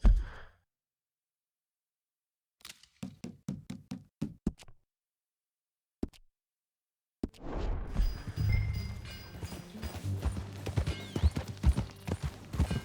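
Horse hooves in the video game Red Dead Redemption 2 clip-clop in a short run of sharp knocks after silence, then a denser stretch of clattering hoofbeats with background noise.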